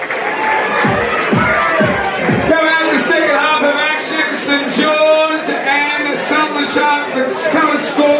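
Crowd at a men's NPL NSW football match between Sutherland Sharks and St George cheering and applauding loudly and steadily, with whoops and shouts rising over a sustained roar.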